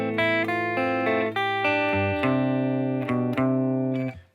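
Electric guitar picking arpeggiated chords without palm muting, notes ringing out and overlapping in a steady rhythmic pattern, distorted tone, close and clear, fading at the end.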